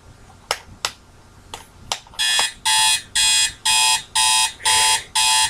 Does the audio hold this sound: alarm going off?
yes